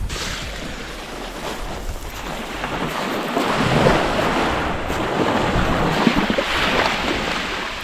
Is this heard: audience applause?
no